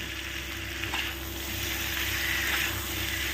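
A slit green chili drops into vegetables frying in oil for a Bengali chachchari of potato, pumpkin and stalks, giving a steady close sizzle with a brief crackling flare near the middle and no talk.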